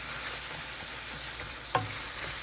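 Onions drop into ground beef frying with seasonings in a pan, a constant dense sizzle with a sharp scrape of stirring about two-thirds through, no voices.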